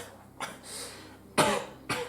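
Coughing from someone choking on dust at an in-person Yu-Gi-Oh card game session: three harsh cough bursts, the first lighter, then two strong close-up hacks spaced about half a second apart.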